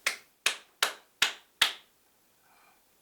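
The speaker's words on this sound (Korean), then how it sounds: "손 박수" Five sharp, evenly spaced hand claps ring out close and loud, followed by a brief pause with a faint murmur.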